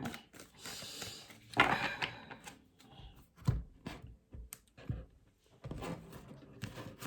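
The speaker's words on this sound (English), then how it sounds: "It's just a bit of shuffling on camera for you." Soft, intermittent riffling and flicking of tarot cards, quiet bursts of shuffling separated by short pauses, close up.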